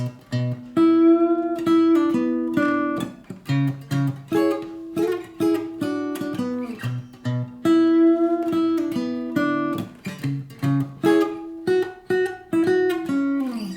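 Slow, plucked acoustic guitar notes pick out two riffs from a song in sequence, each note ringing clearly with short gaps between phrases, no voices.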